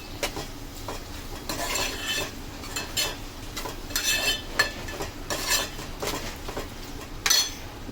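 Prawn curry ingredients with turmeric are stirred in a pan, with a spoon scraping and clinking against the metal in repeated strokes over a low sizzle, close and steady, with no talking.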